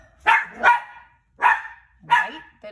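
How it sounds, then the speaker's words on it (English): A dog barks several times in short bursts, two quick barks then a pause and more barks, fairly close and loud. "I'm really sorry that you're having to hear my dog go to town"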